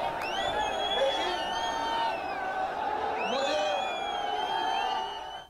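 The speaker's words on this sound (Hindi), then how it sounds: "उनकी हूटिंग की जा रही थी," A rally crowd hoots and whistles at government ministers, shrill rising whistles cutting through a steady roar of jeering voices nearby, loud and continuous.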